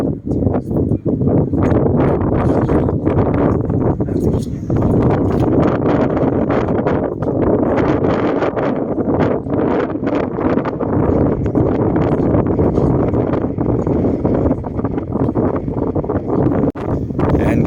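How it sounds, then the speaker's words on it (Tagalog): Strong wind buffets the microphone near Victoria Harbour in foggy Hong Kong, a loud continuous rumbling roar with gusty surges and no clear speech. "kasi mahangin"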